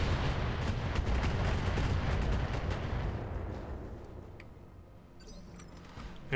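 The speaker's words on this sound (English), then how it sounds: "And we're just going to open fire on this guy." Mech weapons fire in the video game RogueTech BattleTech, a dense barrage of rapid gunfire and booming impacts that gradually fades, followed by a few sharp crackles near the end.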